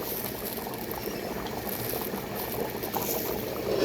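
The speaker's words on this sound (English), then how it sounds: "And so is the meat, splashing away." Mutton and rice boiling together in a pot for biryani, a steady close bubbling and splashing simmer that runs continuously with no voices.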